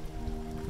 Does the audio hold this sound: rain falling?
yes